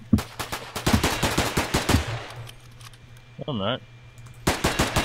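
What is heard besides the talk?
assault rifle gunfire in a video game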